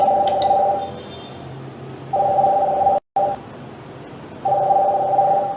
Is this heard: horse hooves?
no